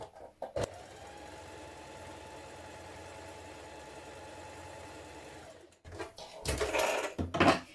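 Sewing machine running a regular straight stitch through dress fabric, a steady fast mechanical whirr for several seconds, followed by handling rustles and knocks as it stops.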